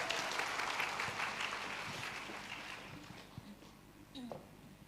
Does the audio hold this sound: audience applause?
yes